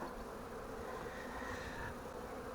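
Honey bees from a swarm buzzing densely around hive frames filled with honey, a steady close hum with no voices, fairly quiet overall.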